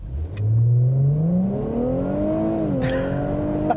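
A 2017 Infiniti Q60 Red Sport turbo coupe pulls away from a stop, its engine note rising steadily through a long, smooth rev climb, then a brief dip at a shift and another climb, loud and close with no talk.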